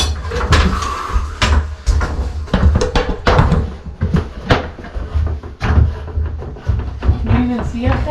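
Doors in a house under renovation are opened and shut with a series of knocks, thuds and latch clicks at uneven intervals, while people talk nearby.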